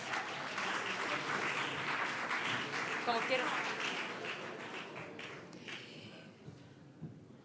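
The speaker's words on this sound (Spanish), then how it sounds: "damos un fuerte aplauso a Ainhoa Beija, socia de Araoz y Rueda Abogados" Audience applause at a legal conference on competition law and environmental sustainability, greeting Ainhoa Beija, a partner at Araoz y Rueda Abogados; steady, dense clapping from a room fills most of the stretch and tapers toward the end, with a brief spoken remark over it.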